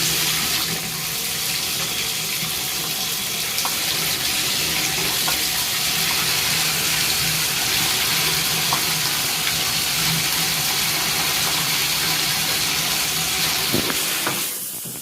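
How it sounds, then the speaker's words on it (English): A shower running, water spraying in a continuous even hiss that stays level for about fourteen seconds before cutting off near the end. "I'm gonna go start taking a shower now."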